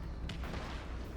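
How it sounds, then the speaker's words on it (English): Grenades burst in a Destiny 2 Lost Sector fight, muffled booms over a rumbling low background, with one sharper blast early and softer thuds following. "I'm getting nades thrown at me."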